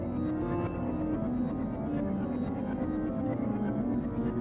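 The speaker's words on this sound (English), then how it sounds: "So low, it sounds like this if you want it to drone." A low drone effect from a special-effects sample library, played as a dense, steady sustained rumble with layered tones that holds at an even loudness throughout, with no voices over it.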